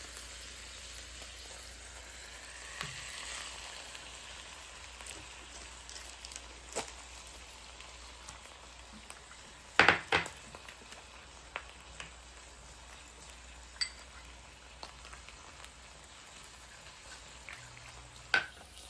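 Two slices of uncured, no-sugar Applegate bacon frying in a pan, a steady soft sizzle and crackle with a few sharp pops and clinks of the pan, no talking.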